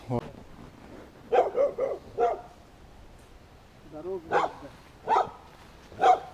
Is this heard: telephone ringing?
no